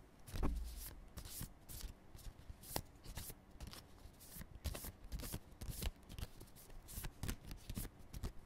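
Sheets of paper are folded and unfolded close by, making a continuous run of quiet, crisp rustles and crackles with no voices.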